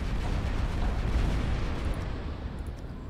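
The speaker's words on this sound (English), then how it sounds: "Plasma cannons there." Plasma cannons on a battleship fleet fire in the space strategy game Final Theory: heavy booming blasts roll into a continuous loud rumble and ease off slightly toward the end, with no voices.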